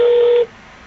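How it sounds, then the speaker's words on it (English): One steady ringback tone from a telephone call that goes unanswered, loud and close, sounding for about half a second before cutting off into quiet line hiss. "Oh, it's ringing and nobody answering."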